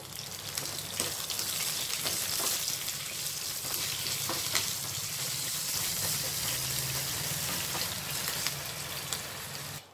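Curry leaves and a pinch of asafoetida tempering in hot oil for a mint-tomato chutney, giving a steady, close, dense sizzle that crackles throughout and cuts off abruptly at the end.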